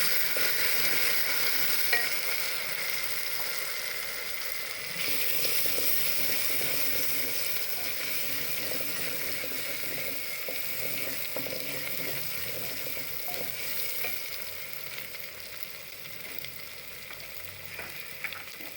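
Ginger, garlic and green chilli fry in a hot pan for aloo chicken korma, a continuous dense sizzle up close, fading slightly toward the end with faint occasional stirring scrapes.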